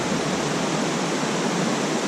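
A creek flows beside a hiking trail on the Big Creek Loop in the Great Smoky Mountains, making a steady, full rushing of water that stays even and loud throughout, with no other sounds.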